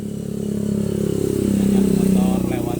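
At night, motorcycles pass a roadside food stall in Sibuak, Tapung, Kampar. A nearby engine hum swells as the bike approaches and then fades as it moves away, with voices talking underneath.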